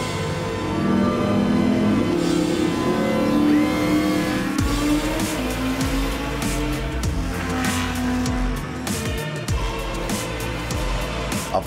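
A tuned Lamborghini Huracan accelerating hard, its engine rising through the revs in loud, close sweeps with sharp drops between gear changes and some tire noise, no voices.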